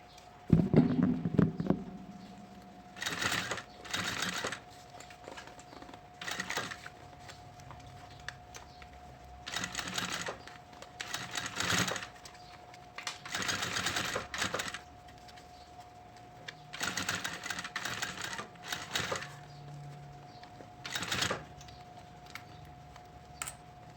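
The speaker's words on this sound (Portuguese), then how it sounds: "E agora vamos lá pra máquina fazer uma costura aqui em toda a volta." Sewing machine stitching around the edge of a synthetic leather pencil case: quiet bursts of rapid ticking stitches, several runs of a few seconds each separated by short pauses.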